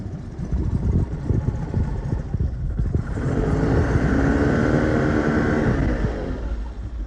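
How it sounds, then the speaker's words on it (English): A small outboard motor on a Catalina 25 sailboat chugs unevenly at first, then settles into a steady, rhythmic idle with a humming drone, close by and fairly loud. "now this engine's going to sit here and idle"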